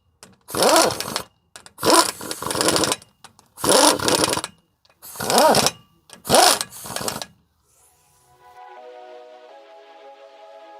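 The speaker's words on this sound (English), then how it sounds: "I'm just going to run these down with the gun" On a GMC 3500HD rear brake job, an impact gun runs bolts down in five close, loud bursts of about a second each, followed by a faint, quieter hum.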